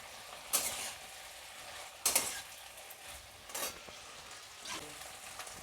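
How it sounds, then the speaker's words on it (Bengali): Chicken pieces frying in spiced oil in a pan for homemade chilli chicken, with a soft steady sizzle broken by four distinct bursts of scraping stirring, close up with no talk. "এর মধ্যে চিকেনগুলো দিয়ে দেবো, মশলার সাথে মিশে যাবে ভালো করে।"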